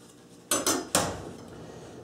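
A knife cuts a pear in half on a board for a fruit tart, giving three sharp close knocks in quick succession within two seconds, then quiet.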